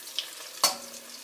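Egg batter with cha-om leaves fries in hot oil, a soft steady sizzle with a brief stir and one sharp crackling burst as something is turned, close and fairly quiet, no voices.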